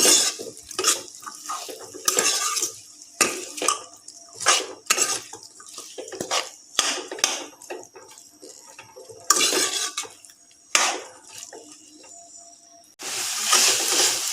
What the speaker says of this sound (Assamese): এতিয়া এইখিনি ভালদৰে লৰাই দিছোঁ